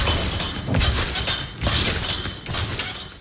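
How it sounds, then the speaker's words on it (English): Repeated springy thumps and creaks from someone bouncing on a trampoline inside a warehouse, a steady rhythm of landings about every 0.8 seconds, close and fairly loud. "Yes, that is the sound of a trampoline."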